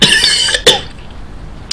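A single loud, close cough followed by a short second cough, heard alone with no talk over it.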